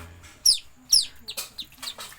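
Several high, thin whistling calls from whistling duck chicks, a few sharp peeps followed by quicker short chirps, close and fairly clear against quiet background.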